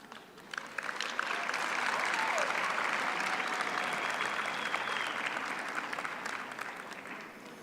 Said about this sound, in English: give a big hand of applause to their families